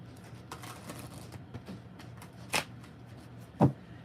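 Tarot cards are shuffled close by in a quick run of riffling flicks, followed by two sharper slaps or taps as the deck is handled, with no talking.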